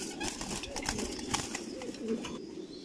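Racing pigeons cooing in a loft at a large breeding farm, soft low repeated coos close by with a few sharper chirps and rustles among them.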